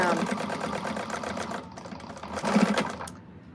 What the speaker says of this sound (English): when I run the bobbin winder by itself sometimes, and I try to go at a high rate of speed